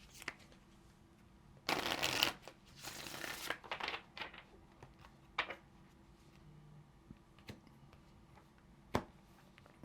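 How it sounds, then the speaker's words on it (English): Tarot cards are shuffled in two quick riffling bursts, followed by softer taps and handling noises in a quiet room. "let's get one more shuffle."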